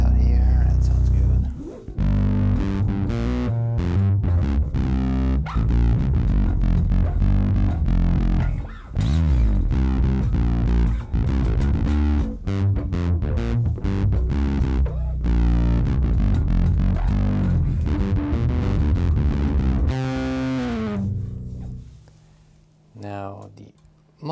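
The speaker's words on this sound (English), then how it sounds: "So the vintage distortion first." Electric guitar played through a VVCO Afterlife pedal on its vintage distortion setting, a dense, saturated stream of chords and riffs held loud and steady, with a brief break near the middle before ringing out and fading at the end.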